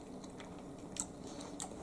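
Someone chews a bite of homemade tuna salad up close, with soft, moist mouth sounds and a couple of brief, sharper crunchy clicks, quiet and without talking.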